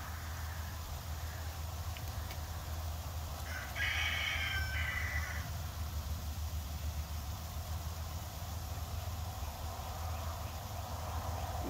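A rooster crows once near the middle of a steady garden scene on a ranch, with a low continuous hum underneath and possible soft clucking from chickens.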